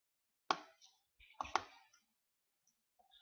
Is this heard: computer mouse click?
yes